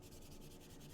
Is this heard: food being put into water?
no